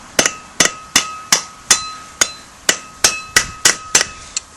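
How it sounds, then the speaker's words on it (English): A hammer-driven tool strikes metal in a steady series of about a dozen sharp, ringing clanks, close and loud, bending a wheel seal flange inward on a Ford Bronco hub. "get right on the edge of the flange of the seal, and just bend it inward like this"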